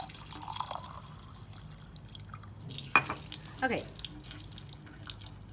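Water poured into a glass beaker for a 150 ml measurement at a lab bench, a soft faucet-like trickle with brief splashy bursts, fairly quiet, and a voice speaks briefly.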